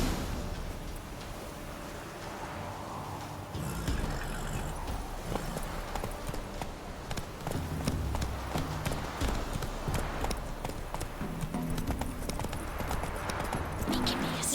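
Roach the horse gallops in The Witcher 3, with rapid, rhythmic hoofbeats pounding steadily over ambient game sound. Faint voices are heard now and then beneath the clip-clop.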